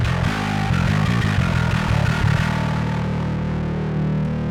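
A bass runs through a DSM Noisemaker Sub Atomic X-Over distortion pedal, giving a loud, gritty, fuzzy tone. A quick run of choppy notes gives way to a sustained distorted note that rings out and slowly fades.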